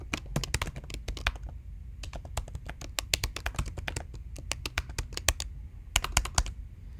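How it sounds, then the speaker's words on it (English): Rapid, uneven computer keyboard typing: close, crisp key clicks in quick runs with brief pauses, continuing steadily throughout, with no voices. "Let's type in some"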